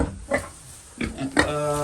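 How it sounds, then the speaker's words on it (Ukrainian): A small young calf on a family farm in the Carpathian village of Brustur gives a few short, close, nasal calls, ending in a longer harmonic bleat, with no talk. "От тут телятко маленьке таке"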